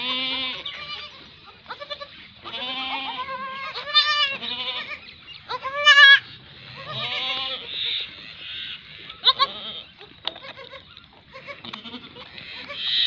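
A crossbred female goat and her two male kids bleat repeatedly, their cries coming close and loud, sometimes overlapping in quick bursts with short pauses between them.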